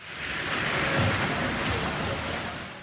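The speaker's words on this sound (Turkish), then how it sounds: "Edirne'de ise sağanak yaklaşık 15 dakika sürdü." Heavy rain from a sudden summer downpour in Turkey pours down steadily, a dense continuous hiss of drops hitting surfaces, with no voices.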